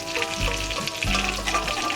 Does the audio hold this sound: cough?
no